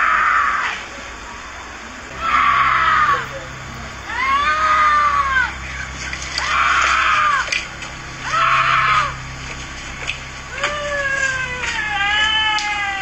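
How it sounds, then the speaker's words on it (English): A woman on a street screams for help in several drawn-out, wavering cries that come in regular bursts with short pauses between them. The screams are loud against a quiet outdoor background. "A woman screams out for help as she seemingly walks calmly down the street in front of Oscar's home."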